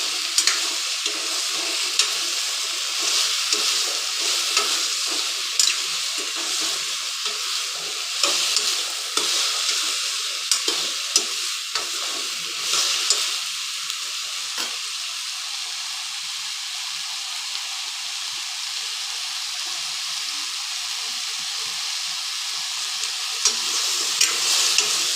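Ridge gourd shallow frying in a pan for chutney, a bright continuous sizzle and hiss with faint stirring clicks, steady and close throughout with no talking.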